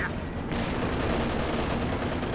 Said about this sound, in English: Good incendiary barrage though